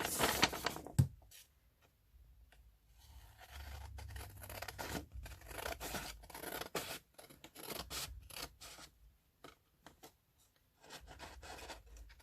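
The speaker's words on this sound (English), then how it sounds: "I'm just going to cut that" Scissors cutting single-sided scrapbook paper by hand, a series of crisp snips and rasping slices at close range, some in quick clusters and others spaced out, with quiet pauses between runs of cuts.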